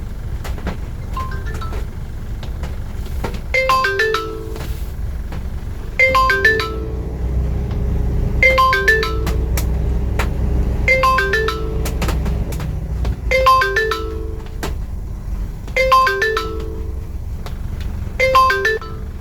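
A phone ringtone sounds in repeated bursts of a bright melodic tone, about seven rings spaced a couple of seconds apart, over low background rumble with no talking.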